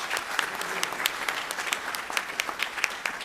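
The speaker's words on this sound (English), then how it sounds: "I'd just give her a round of applause" A town hall audience breaks into a round of applause, dense, steady clapping from many hands that fills the whole stretch at moderate level.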